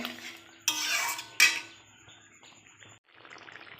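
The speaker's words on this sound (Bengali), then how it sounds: "ঘিটা দিয়ে একটু নাড়াচাড়া করে নিয়েছি" A spoon stirs posto kudri curry with ghee in a metal pan, making two bright scraping clangs followed by softer, quieter clinks and stirring; no voices.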